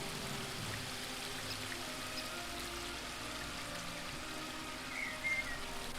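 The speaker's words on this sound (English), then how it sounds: "pour the water out of this." Water is poured out in The Book of Unwritten Tales 2 video game, a soft, continuous splashing trickle with a faint watery patter, heard quietly and alone.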